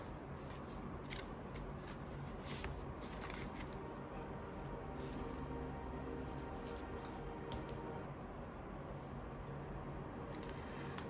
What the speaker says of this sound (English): All right, let me shuffle it more.